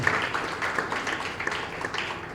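Church congregation clapping for the host during a service, a steady dense patter of many hands filling the room at moderate volume, with no voices standing out.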